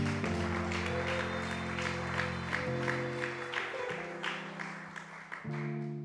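A church congregation claps at length for Jesus, a dense patter of many hands beneath sustained keyboard chords that shift and change. The clapping is moderate in level and stays steady throughout.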